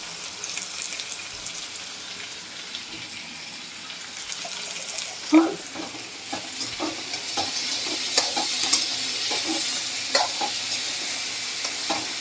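Tomatoes and salt stirred and fried in a pan along with capsicum, a moderate sizzle rising after a sharp clink, with repeated spoon scrapes. A faint wash of running water sits underneath.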